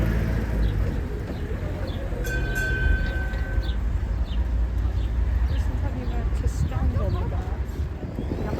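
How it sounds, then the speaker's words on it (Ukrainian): Small seaside train running along the Cleethorpes coast, a continuous rumbling clatter of wheels up close with a brief high whistle-like tone, while people talk over it. "Я навіть зроблю відео маленького потяга."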